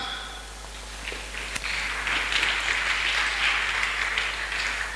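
A church congregation breaks into applause, a rising wash of clapping that swells after a brief pause and holds at moderate distance with a roomy echo, no speech over it.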